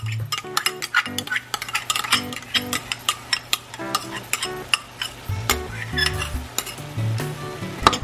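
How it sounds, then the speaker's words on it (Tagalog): Pork giniling cooks in tomato sauce in a pan, a steady close sizzle punctuated by rhythmic clacks and scrapes of a utensil against the pan, with no talking. "So halfway into our cooking, pwede na nating i-add yung ating tomato sauce."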